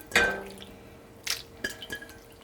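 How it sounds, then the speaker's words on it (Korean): Salted shrimp brine is poured into a pot of fish roe stew, a short close splash followed by a few light drips and wet clinks. "이것도 새우젓 국물이니까 넣어줄게요"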